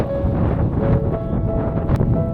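Steady, blustery wind roars across the snowy summit of Hallasan mountain, buffeting the microphone continuously with a dense, rumbling wash and no voices.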